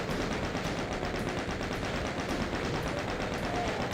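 Sustained rapid machine-gun fire from a chaingunner in the video game Doom 2, a dense, unbroken automatic burst running steadily and loudly throughout with no talk over it.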